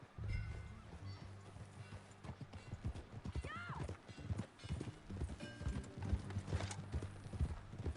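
Horse hooves clip-clop steadily in Red Dead Redemption 2, a near, rhythmic trot with an occasional whinny, layered over game music and ambient noise.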